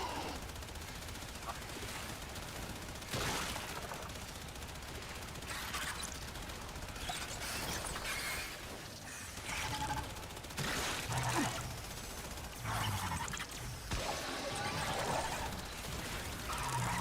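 Rapid gunfire bursts from the Warframe video game, crackling in repeated volleys over a dense, busy mix of in-game sounds with brief pauses between salvos.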